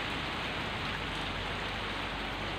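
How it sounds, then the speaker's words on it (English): Rain falls outdoors at night in the early hours before dawn, a dense, steady hiss of drops on surfaces that holds constant with no voices. "It's actually raining."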